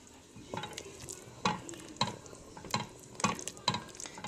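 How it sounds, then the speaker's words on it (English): Potatoes being stirred into a homemade organic milk-based potato soup in a pot, soft scraping spoon strokes knocking the pot at a loose rhythm over a faint simmer, with no voice. "now I'm going to add back in my potatoes and then stir"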